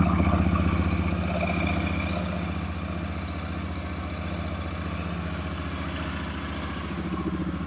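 Royal Enfield Super Meteor motorcycle engine idling steadily after a 300-mile oil service, a close, even low thrum with light mechanical clatter running unbroken throughout.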